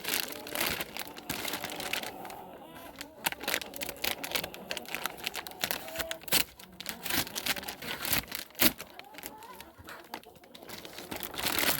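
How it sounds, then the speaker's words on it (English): Scissors slicing down a woven feed bag, with dense crinkling, rustling and snipping of the plastic material continuing close up throughout. "you can come on in with your scissors and just go down that line just like that,"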